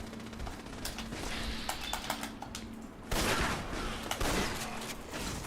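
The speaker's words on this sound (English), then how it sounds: "Your education is that shotguns really hurt." Shotgun fire in the video game Fallout 4, with repeated sharp gunshot blasts and heavy bursts from about three seconds on, set against steady game background noise and no talk.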